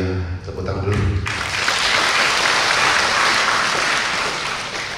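Dense, steady applause from an audience at a Dhamma talk, rising abruptly after a voice and then holding loud and even for several seconds.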